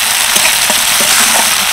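Ginger garlic paste fries in a pan as it is stirred during rural Bengali-style cooking: a loud, continuous sizzle broken by a few soft utensil scrapes.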